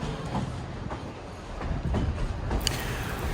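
Durango & Silverton narrow gauge train in Colorado's San Juan Mountains rolling along the rails, a steady rumble with rhythmic clacks, heard close from aboard.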